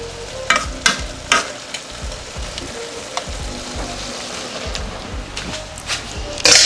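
Vegetables and dumplings fry in a pan together with a continuous sizzle. Stirring scrapes and clatters come through at intervals, and the sound stays close and fairly loud throughout.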